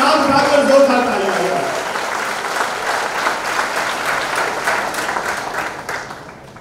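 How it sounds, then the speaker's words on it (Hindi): Loud audience applause and cheering at a Miss India 2020 runner-up welcome event, a dense steady wash of clapping that begins with a voice over it and fades out near the end. "हाथ उठाकर, हवा में हाथ उठाकर जोरदार तालियां।"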